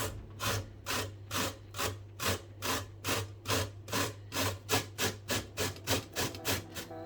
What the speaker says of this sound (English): just grate this